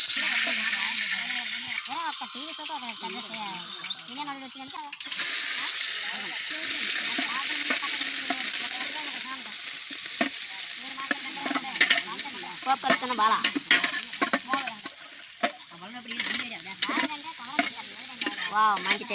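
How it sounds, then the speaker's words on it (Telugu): Oil sizzling as food fries in a pan over a stove at a village picnic, a steady crackling hiss with stirring scrapes, and a few brief spoken words over it. "నూనె మరుగుతుంది"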